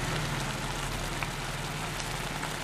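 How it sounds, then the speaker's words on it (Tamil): Olan curry in a pot coming to a boil on the stove, giving a steady soft bubbling and simmering hiss that runs evenly and close throughout, with no talking. "கொதி வர்றதுக்கு ஆரம்பிச்சாச்சு."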